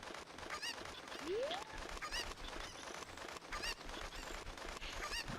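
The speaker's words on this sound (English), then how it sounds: "so the chickens are here, or the cuckoos or cuckoos." Cuccos (chickens) in Zelda: Ocarina of Time squawk and cluck a few times at low volume over steady game background music and ambience, with no talk.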